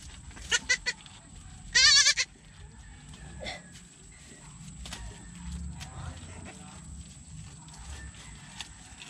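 Baby goats bleat on a farm, two short cries early and a louder, longer bleat near the two-second mark, then a low ambient rumble with faint rustling and scattered small knocks.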